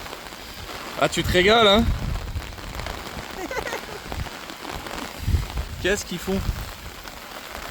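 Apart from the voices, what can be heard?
rain falling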